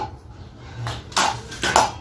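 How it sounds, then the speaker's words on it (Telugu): A few hard clinks and knocks of a mixer grinder jar being handled and set down, close and fairly loud, with brief pauses between them. "ఇప్పుడు ఒక మిక్సీ జార్ తీసుకోవాలి"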